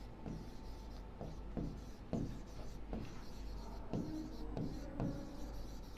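A pen moves across paper as a description is written by hand, a quiet run of short scratchy strokes in irregular bursts, close and alone.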